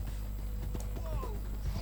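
Horse hooves clip-clop steadily in a Red Dead Online western game, a close, even rhythm of light hoof strikes beneath ongoing game ambience and someone talking.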